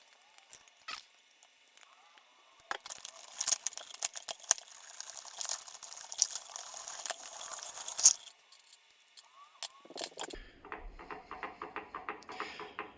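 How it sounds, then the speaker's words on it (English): Food mill cranking cooked blackberries against a spatula to strain out the seeds, giving faint scraping and crinkling clicks in irregular bursts, then a lower grinding churn near the end, close and quiet with no talk. "I've got a food mill here, and got my spatula, and we're gonna just mill this down"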